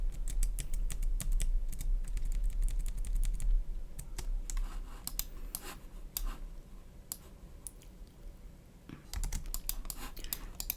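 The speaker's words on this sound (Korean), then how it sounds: "키보드 오른쪽 방향키." Rapid, repeated clicks of computer keyboard keys, including the right arrow key, pressed while building an isometric grid in design software; crisp close taps in irregular bursts over faint background noise, with no talking.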